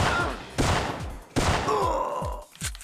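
Several .45 pistol shots fired in the Syphon Filter video game, sharp loud reports at irregular intervals with short decaying tails and a sustained tone after one shot.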